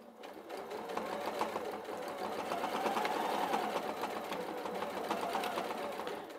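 A sewing machine stitches through Bosal bag interfacing in a rapid, steady mechanical run that holds for several seconds. It is close and fairly loud, with a soft start, and no one speaks.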